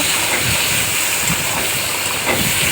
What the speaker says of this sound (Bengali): কড়াই গরম হয়ে গেছে দিয়ে একটু হালকা একটু ভেজে নেব